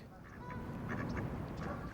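Urban geese in a city park lagoon honk and call in scattered bursts at a moderate distance over a steady outdoor background hum.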